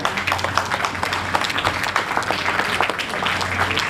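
Steady applause from an audience at a school alumni reunion as former teachers are honoured with shawls, dense continuous clapping throughout with a faint low hum beneath.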